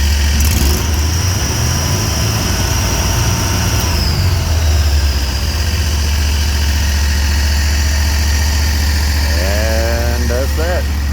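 Predator 670 V-twin engine on a Hustler 980 mower running steadily with a low, continuous rumble close by, briefly rising in revs near the start and again toward the end.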